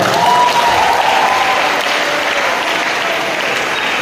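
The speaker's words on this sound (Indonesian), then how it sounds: "Tepuk tangan buat dia." Loud, dense applause from a crowd of maritime cadets at a public lecture, continuous sustained clapping filling the room with no speech over it.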